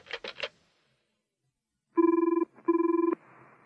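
A telephone rings after buttons are pushed: a brief cluster of dial tones first, a pause, then two clear electronic ring bursts of rapid trilling pulses, close and alone.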